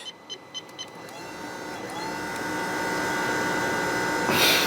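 A car's brake pre-charge pump running under manual activation during fault diagnosis, a few soft clicks and then a steady rising electric whine that builds gradually in level, close and fairly quiet with no voices.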